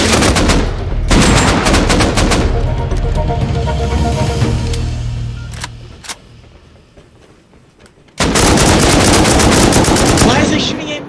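Gunfire in the video game Rust Console Edition: loud, close bursts of automatic fire, a quieter stretch of scattered shots and rumble, then another sudden heavy volley.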